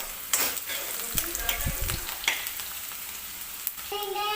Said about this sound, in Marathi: लसूण सुद्धा हलकासा गोल्डन होईपर्यंत आपल्याला लसूण तेलामध्ये परतून घ्यायचं आहे